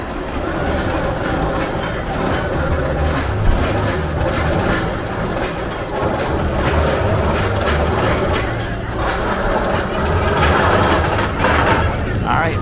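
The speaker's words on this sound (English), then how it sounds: "First coaster through since the rain, and that coaster is empty." An empty roller coaster train at Cedar Point Shores, running just after rain, rumbles and clatters along its track, a steady mechanical rattle close by, with voices talking faintly underneath.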